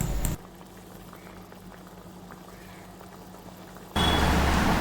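Coconut milk curry with crushed cardamom bubbling and reducing in a pan, a steady close boiling patter that runs alone for several seconds between louder bursts at the start and end.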